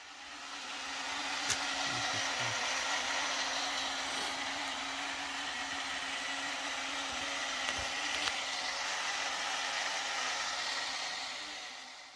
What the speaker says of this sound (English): That sound is actually a hang-on filter that has got its inlet blocked